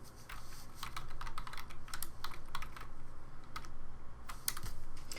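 Rapid keystrokes on a computer keyboard as a name is typed into a search field, a steady run of light clicks at close range with no talking.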